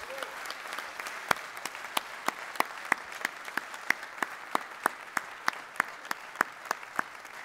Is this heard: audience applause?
yes